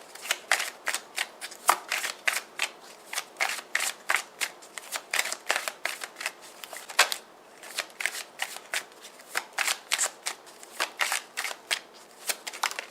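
A deck of tarot cards is shuffled over and over close up, giving rapid riffling bursts in a quick, regular rhythm with short pauses between them, with no talking.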